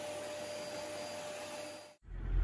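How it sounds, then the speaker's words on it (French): A vacuum cleaner whines steadily while cleaning out a computer tower, then cuts off abruptly near the end, followed by a low thump. "J'ai commencé par passer un coup d'aspirateur."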